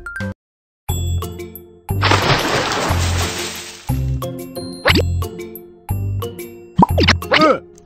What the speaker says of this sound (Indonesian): Coba tuangkan ramuan ajaib ke dalam air